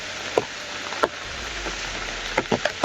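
A steady hiss of heavy rain pours down, broken by several distinct louder drips or splats striking a surface at irregular intervals, with no talking.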